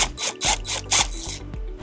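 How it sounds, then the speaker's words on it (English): A power drill fitted with a 3/16 bit bores a hole while mounting a bracket for a wiring harness on a 2018 Chevrolet Equinox, heard as short repeated whirring bursts with brief pauses, close and alone. "We're going to drill a hole using a 3/16 bit."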